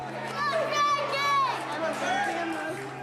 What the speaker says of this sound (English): you can clearly hear Michaela cheering on her big brother